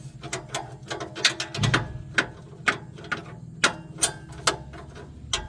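Ratchet clicking steadily while unscrewing the downstream oxygen sensor on a 2011 Toyota RAV4, with a rhythmic series of close, sharp ticks at roughly even intervals and no voices.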